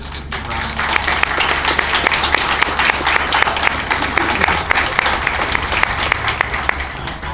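At the Geowoodstock IX geocaching gathering, a large outdoor crowd gives the committee a sustained, dense round of applause, loud and even from start to finish, with faint crowd noise beneath.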